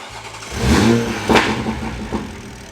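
A car engine on an ethanol fuel setup cranks briefly, catches and revs up loudly, then settles with a couple of smaller throttle blips, close by and without talk.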